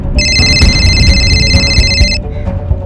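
A telephone rings with a bright, steady electronic trill lasting about two seconds and then stops, loud and close, over a low background rumble, in a tense crime drama scene.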